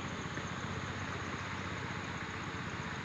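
A tractor engine drones steadily and faintly across a monsoon-season Konkan farm landscape toward the hills, a low continuous idling hum with no distinct beats and no voices.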